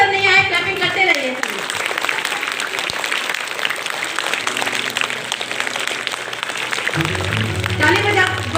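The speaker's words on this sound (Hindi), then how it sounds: "सर प्लीज 2 मिनट के लिए, जब तक सर नहीं आए क्लैपिंग करते रहिए।" An audience at a school ceremony claps steadily, a dense wash of applause that persists under an amplified voice and music at the start and end.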